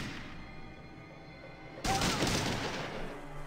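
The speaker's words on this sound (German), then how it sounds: "Alle schießen auf mich, alle schlagen auf mich, je nachdem." Gunfire in the video game Fallout 2 breaks out suddenly as a loud, dense burst of rapid shots and crashes after a quieter stretch, continuing harshly to the end.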